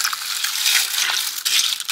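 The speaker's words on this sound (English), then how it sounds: "throw this pasta in there, give it a little stir" Dry bow tie pasta tumbles into a crockpot and gets stirred, giving a bright, rattling clatter of hard pieces that stays busy throughout with a few louder scrapes.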